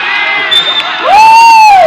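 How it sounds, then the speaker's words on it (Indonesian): A crowd at a football match final cheers and whoops loudly, with a sharp high shout rising out of it and swelling into a sustained roar. "Ya, sorak-sorakan silakan, kami tidak melarang."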